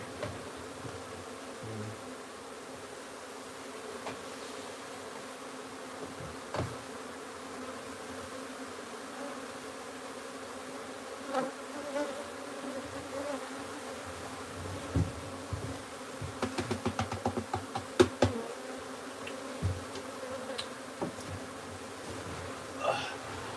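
Bees buzz steadily around a wild beehive being moved into a new home, a continuous low drone with closer bees passing by, and scattered clicks and knocks from handling toward the end.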